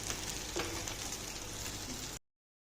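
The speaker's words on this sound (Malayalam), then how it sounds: "ചാളക്കുട്ടന്മാരെയൊക്കെ വറുത്തെടുക്കുകയാണ്." Small sardines frying in a pan, a faint, even crackle and sizzle that cuts off abruptly after about two seconds.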